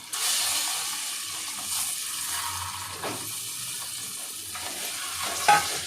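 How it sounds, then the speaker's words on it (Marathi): Boiled eggs fry with a little salt in an oiled pan for egg biryani, giving a steady close sizzle with light stirring and a brief sharper crackle near the end. "त्याच्यामध्ये आता अंडी फ्राय करून घेणार आहे"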